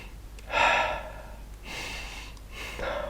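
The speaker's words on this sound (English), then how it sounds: "Then you take 3 deep breaths." Three deep breaths drawn slowly one after another, each a broad airy rush with short pauses between, the first loudest and the next two a little softer, no talking.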